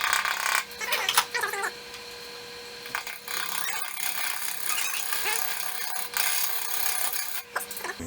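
A wood lathe spins steadily while a tool scrapes and cuts a turned wooden bowl, giving a continuous gritty rasping whir with intermittent sharper scraping bursts, close and fairly loud, no talking.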